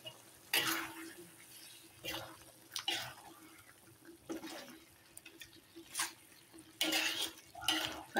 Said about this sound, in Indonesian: Selanjutnya kita aduk-aduk,